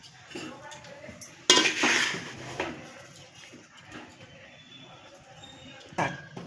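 Roasted fenugreek, edible gum and halim ladoo mixture scraped from a metal pan into a bowl, with several loud clanks and scrapes of a spoon against metal, then softer scraping and a final clink.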